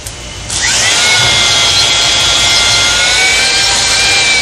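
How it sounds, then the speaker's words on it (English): A drill motor strains steadily while honing the cylinder liner of an EMD diesel engine, starting abruptly after a brief quiet moment and holding a loud, continuous high-pitched whine with slight pitch shifts throughout. "you can hear the drill motor straining just a little bit"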